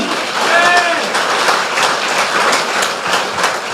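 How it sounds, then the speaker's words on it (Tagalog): A church congregation claps for the Lord, a loud, dense wash of many hands with voices mixed in, steady and close throughout. "Palakpak para sa Panginoon"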